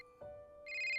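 A mobile phone ringtone sounds on waking, a steady electronic tone that rises into a brighter, louder ring partway through, heard alone.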